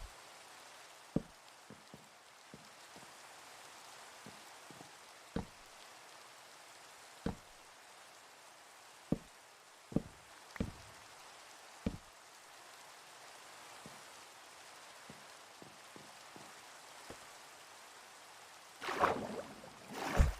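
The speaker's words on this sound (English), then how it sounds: "Yep, the rain is back." Rain falls outdoors in the Citadel's Low Town as a soft, steady patter, punctuated by scattered sharp drips or knocks at irregular intervals and a brief louder rustling burst near the end, with no speech.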